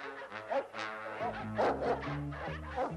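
Several dogs bark and yip in overlapping bursts, fairly close, with a busy, excited rhythm and no talking.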